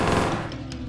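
Machine gun fire rattles in the video game Ronin as a quick, loud burst of rapid shots that trails off within a second.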